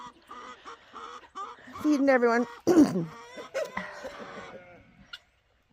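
Pastured chickens and other farm animals call out on a misty morning, a few throaty squawks and clucks mixed with a person talking nearby.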